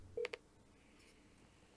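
Telephone keypad tones dialed for a call: two or three short beeps in quick succession near the start, faint against a quiet background, then another brief tone at the end.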